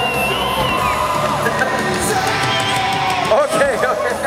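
A shopping-centre crowd at a mountain bike show cheers and whoops loudly, with scattered yells and shouts rising over a continuous roar of voices, close and lively throughout.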